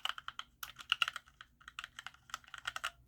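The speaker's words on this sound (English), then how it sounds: "this one has the red switches, as you can hear, there is no resistance, there is no clicky noise with these keyboards" Typing on a wireless gaming keyboard with linear red switches: a steady run of soft, non-clicky keystrokes in quick bursts, close and fairly quiet, with no voices.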